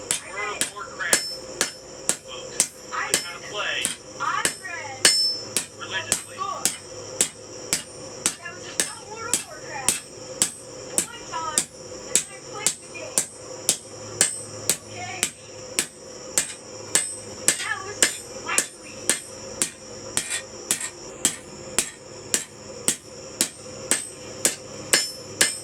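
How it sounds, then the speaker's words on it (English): A hammer flattens a copper bracelet blank with steady, evenly spaced metallic strikes, close and sharp, repeating dozens of times at a quick working rhythm. "so first thing we gotta do is just flatten her out."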